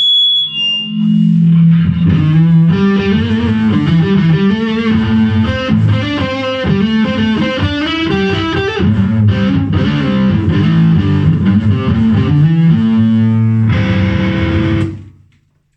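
Electric guitar played loud through heavy distortion, sustained chords and riffs ringing continuously before cutting off at the end.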